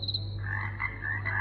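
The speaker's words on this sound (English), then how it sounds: "Frog" A white noise night light by Aptoyu plays a recorded frog croaking, a steady run of close, chirpy croaks over a constant low electrical hum.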